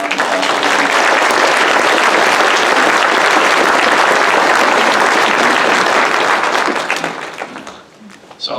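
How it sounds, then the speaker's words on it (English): Town hall audience at a UCP event in Alberta gives itself a loud, sustained round of dense clapping that holds steady for about seven seconds before tapering off. "I want you to give yourself a good round of applause"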